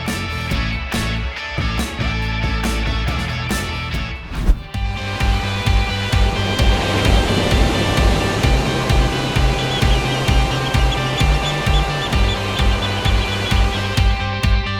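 Ocean surf at Legok Jawa beach in Pangandaran, Indonesia, roars in a loud, continuous wash, with one sharp crash of a breaking wave partway through and music playing over it.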